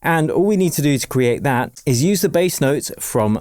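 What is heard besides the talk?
None of the usual background noises is heard.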